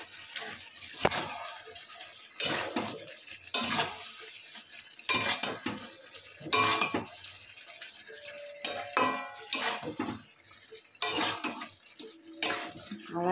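Chicken with chicken masala is sautéed in a pot, with repeated scraping stir strokes in bursts separated by brief pauses and a soft sizzle beneath.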